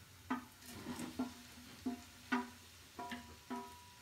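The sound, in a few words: stirring fried gobi into masala in a pan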